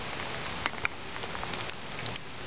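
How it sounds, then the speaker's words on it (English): Steady light rain patters on foliage and ground along a hilltop hiking trail, a continuous soft hiss with a few louder drips close by, no voices. "I'm assuming you can hear the rain."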